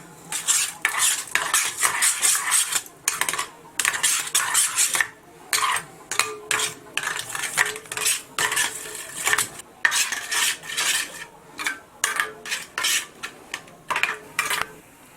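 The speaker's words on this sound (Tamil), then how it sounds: "இந்த கொத்தமல்லி தலையை போட்டுட்டு நல்லா மிக்ஸ் பண்ணிக்கோங்க" Rapid metal-on-bowl stirring, a utensil clinking and scraping steadily against the sides as an omelette egg mixture with coriander leaves is beaten, in repeated bursts with short pauses.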